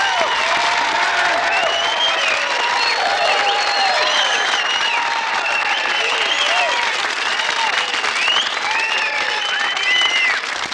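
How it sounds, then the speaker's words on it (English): Sustained applause from a church congregation, dense and steady throughout at close range, with scattered voices and whistle-like whoops riding over the clapping. "Let's give Caden, Oliver, and Hudson a round of applause for spreading the love of Jesus to foster families in our community."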